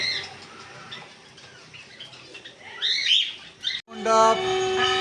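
Pet birds for sale, including conures, cockatiels, Java sparrows and lovebirds, chirp and tweet in a busy overlapping chorus, with louder shrill calls near the end and a faint voice underneath.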